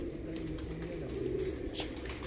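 Pigeons cooing outdoors in Pakistan, a soft low cooing that carries steadily over a constant background hum for a couple of seconds, with no talking.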